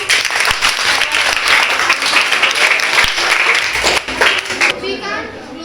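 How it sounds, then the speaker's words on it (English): A class of eighth-grade students claps together in a loud, close burst of applause lasting several seconds, then tapers off as a voice begins speaking. "Clap everyone."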